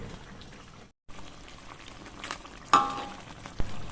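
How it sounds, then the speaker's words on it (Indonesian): Jumbo shrimp and tempeh frying in hot oil for sambal, a steady soft sizzle with occasional pops and spatters, close and fairly quiet. "Mbak Ica udah masukkan udangnya"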